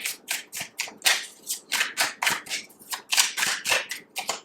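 Tarot cards are shuffled by hand in quick repeated riffles and soft slaps, a steady close rhythm of crisp papery bursts with no talking.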